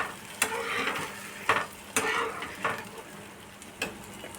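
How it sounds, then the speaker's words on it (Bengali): Egg scrambled in a little oil in a pan sizzles steadily while a spatula scrapes and taps the pan in repeated strokes, close and moderately loud, for an egg chilli dish. "পুরো ডিমটা আমি এভাবেই অল্প তেলেই ঝুরি করে নেব"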